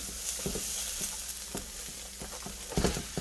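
Cooked rice for chicken fried rice hits a hot frying pan and sizzles steadily, with soft scraping stirs and a few louder crackling bursts, close and alone without talk.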